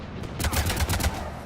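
Short rapid burst of assault rifle fire in a sci-fi shooter video game, a quick string of about six punchy shots at moderate loudness.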